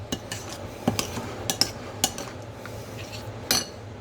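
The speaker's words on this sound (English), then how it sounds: "So we're just going to give that a stir." A spoon stirs pizza sauce in a pot, giving a run of light metallic clinks and taps at irregular intervals over a faint background hum, close by and without talk.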